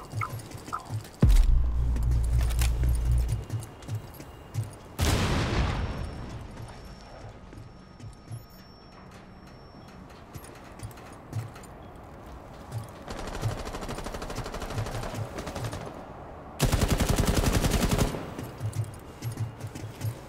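Automatic weapon fire in Rainbow Six Siege comes in several loud, rapid bursts separated by quieter stretches of game ambience and faint shots.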